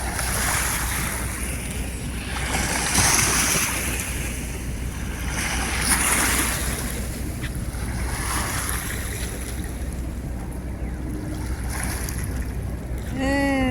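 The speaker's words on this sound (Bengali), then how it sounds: "ও যে কি ঢেউ আইতাছে, কি আওয়াজ!" River waves rolling toward the bank at sunrise make a steady rushing wash with swells of louder surf, close by and mixed with wind buffeting the microphone.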